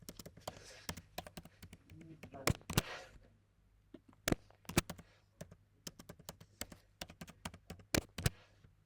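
Someone types a password on a computer keyboard, close by and fairly quiet, with irregular bursts of sharp key clicks and a few heavier taps between short pauses.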